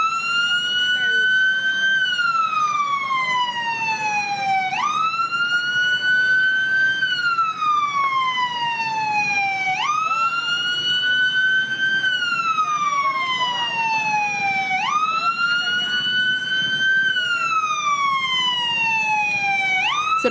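Fire truck sirens responding to a building fire, a loud wailing tone rising and falling in steady cycles of about five seconds, continuous and close with a faint layered second siren and street noise underneath.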